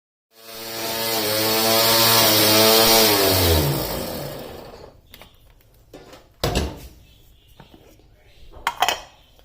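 An electric food chopper whirs loudly for about four seconds while chopping fenugreek leaves, its motor pitch falling as it spins down, followed by a couple of sharp clunks of the container.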